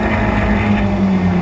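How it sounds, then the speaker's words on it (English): Onboard a sports specials race car fitted with an 1800cc Zetec engine at Rockingham, a loud, steady engine drone fills the cabin, with wind rush over the microphone throughout. "this is a car that has been fitted with an 1800cc Zetec engine to race within the sports specials this year"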